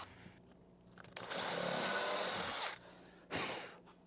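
A loud power drill whines steadily for over a second while drilling holes, stops, then a second shorter burst starts up, with faint handling noises before it.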